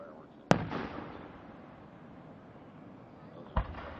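Fireworks at Lime Rock race track: two sharp distant booms about three seconds apart, the first louder, each followed by a crackling tail over steady outdoor ambience.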